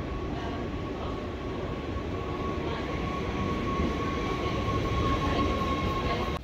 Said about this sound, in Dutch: Dat wordt een East Intercity. Gaan we richting Leiden, dat wordt gereden met sprintermaterieel.